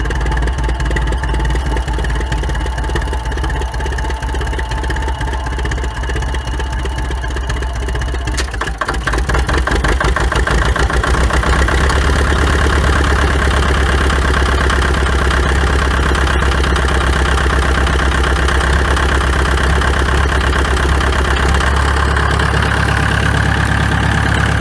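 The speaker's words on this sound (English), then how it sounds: "I let it run about 5 minutes on gas. I'm gonna try switching it to diesel now," An International TD9 bulldozer engine idles on diesel after warming up on gas, a loud, steady, rough rumble with a rhythmic chug that shifts and firms up about a third of the way through.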